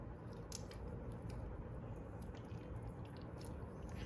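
Kuromi slime squeezed by hand, giving soft, quiet squishing and wet squelching sounds with a few faint sticky pops, no voices.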